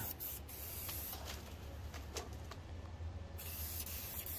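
Metallic base coat paint sprayed from an aerosol can in light drop coats onto a part inside a spray booth, giving a steady close hiss with brief bursts and pauses throughout.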